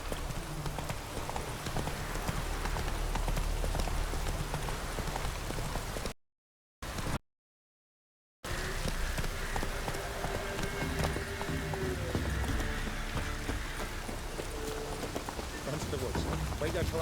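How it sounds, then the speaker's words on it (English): Rain falls steadily in The Witcher 3 while a horse's hooves clip-clop nearby, with voices talking over the wet ambience and two brief gaps of silence partway through. "Looks like rain."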